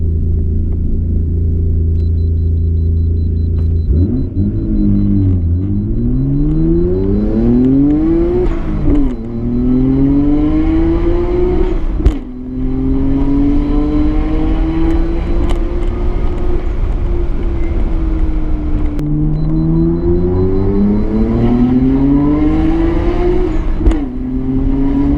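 A 600 hp Nissan GTR R32 drives past and revs hard, its engine climbing and falling through several loud, sustained acceleration sweeps close by, with brief dips between gear changes.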